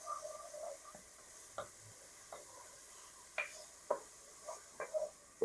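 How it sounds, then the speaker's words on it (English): Faint, soft sizzle from a hot pan on a stove while vegetables sauté for homemade spaghetti sauce, with occasional light pops and stirring clicks scattered over a quiet hiss. "we're sizzling good"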